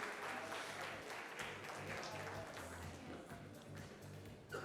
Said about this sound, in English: Could we have another round of applause for them as they go back to their seats